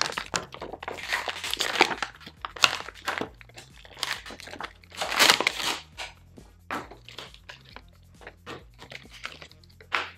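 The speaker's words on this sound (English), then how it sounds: "let's get this out as I tear the package all apart" Plastic product packaging for ear-cleaning swabs being torn open and crumpled by hand, loud close crinkling and ripping bursts that come and go for about ten seconds, with no talk.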